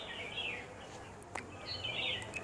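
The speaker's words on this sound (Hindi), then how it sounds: "कुछ पक्षियों की चहचहाट भी आपको सुनाई दे रही है।" Outdoor birdsong with a few bright chirping phrases and a single sharp click, heard at a moderate distance over a soft background hiss, with no one talking.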